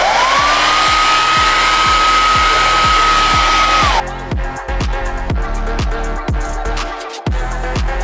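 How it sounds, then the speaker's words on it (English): A loud hair dryer blows steadily close by, heating a figure during a detailing mod, its whirring pitch shifting midway as the setting changes, with a rhythmic ticking underneath. "we also tried the heat with the hairdryer"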